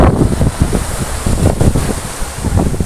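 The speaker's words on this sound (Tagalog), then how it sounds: "Ay, hangin naman dito, oh. So, hangin, mahangin, mahangin." Strong monsoon wind at Bang Saen beach buffets the microphone in loud, continuous gusts, with a rumbling roar and no voices.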